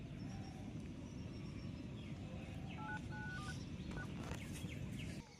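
A handful of quick telephone keypad dialing tones beep in a short cluster midway, faint against a steady hiss of room noise with no one speaking.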